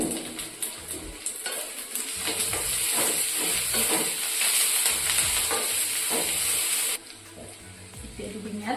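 Ginger and garlic paste sizzles and fries in hot oil in a home kitchen pan for an Assamese duck meat curry with pumpkin, a loud, steady crackling hiss with stirring scrapes, easing off near the end.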